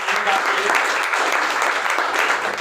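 Enthusiastic applause from a crowd at a product presentation, dense steady clapping that fills the whole moment without pause.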